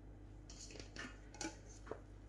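A scooping utensil clinks and scrapes against a metal pan in short, soft taps as drained rice is spread in a layer for kofta biryani, quiet and close with a low background hum.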